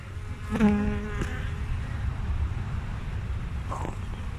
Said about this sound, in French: Ils sont relous, ces abeilles.